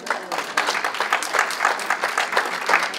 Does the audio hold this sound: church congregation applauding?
yes